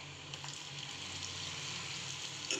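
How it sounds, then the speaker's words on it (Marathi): Okra deep frying in hot oil in a kadhai over a low flame, giving a steady, close bubbling sizzle that runs unbroken with no talk. "भेंडीला आपण टाकलेलं आहे कढईत फ्राय व्हायला"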